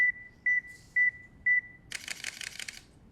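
A timer beeping while a person sets up a photo shot: four evenly spaced, clear electronic tones, followed by a brief rattling burst of clicks.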